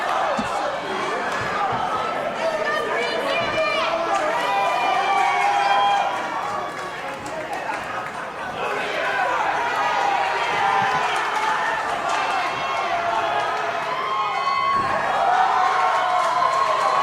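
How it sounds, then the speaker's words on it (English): A wrestling crowd at a CZW show roars and chants for blood, a loud, dense mass of voices that dips briefly and surges back, with voices talking over the din. "The crowd calling for Moxley's blood."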